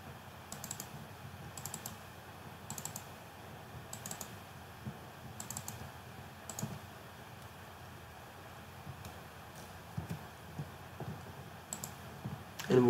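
Someone types a command on a computer keyboard while working in Rhino modeling software: quiet, steady clusters of key clicks spaced through a hushed room, with a louder final press.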